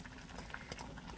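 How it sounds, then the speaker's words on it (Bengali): A pot of Bengali elephant foot yam and prawn curry with cumin paste, water and a little sugar bubbling on the stove, a quiet, steady patter of simmering liquid with no voices. "ফুটছে"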